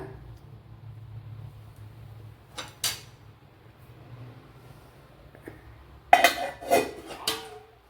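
A pot lid is set down over a pot of fish and banana blossom cooking, giving a couple of brief clattering metal knocks near three seconds and a louder burst of clinks and scrapes toward the end over a quiet kitchen background.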